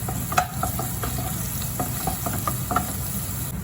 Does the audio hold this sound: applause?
no